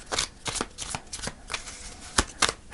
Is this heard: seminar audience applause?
no